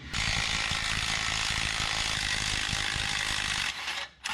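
An impact wrench spins dirty, dust-caked nuts off a 1963 IH Loadstar truck, a loud continuous rattling hammer for nearly four seconds before cutting off briefly.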